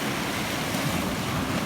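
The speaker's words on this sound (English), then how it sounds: "Now there's waves still lapping up on that rock." Rough sea waves lapping against rocks on the North Wales coast, a steady close roar of surf and wind with no voices.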